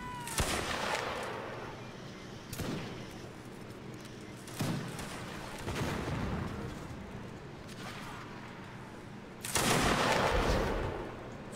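Musket volleys in the Mount & Blade Napoleonic Wars minisiege, with several sharp broadband shots spaced a few seconds apart over continuous battlefield rumble, the loudest blast arriving near the end.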